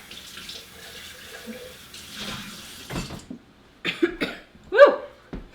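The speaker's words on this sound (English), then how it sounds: "Rinsing it out." A tap runs into a sink as a pot is rinsed out during homemade soap making after lye is poured, with splashing water and clattering, a cough, and short vocal exclamations near the end.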